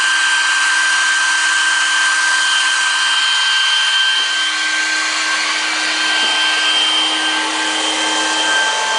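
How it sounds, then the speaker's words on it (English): A hair dryer set up to heat frozen water pipes runs continuously, a loud steady whooshing drone with a constant whine, with no talk over it. "That hair dryer is located right there. That's running to heat up those water pipes."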